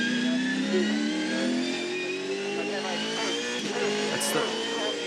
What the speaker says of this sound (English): So that awkward gear shift there, no blipping on the downshift, so just momentarily stopped the rears